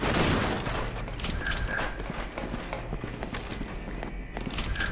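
Explosive weapon fire from a rocket launcher in the action game Resident Evil 6, sharp blasts and crackling bursts repeating over a dense, noisy battle backdrop with rumbling low end.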